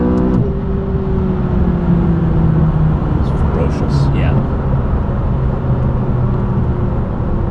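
A McLaren 570S accelerates hard through two gears, its engine note climbing and shifting into a loud, sustained roar heard from close by.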